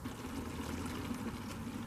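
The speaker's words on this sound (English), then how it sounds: "now I'm going to try to pour some of this acid" Acid drained from a car battery being poured into a container, a steady liquid trickle and splash with a faint low hum, continuous and close for under two seconds.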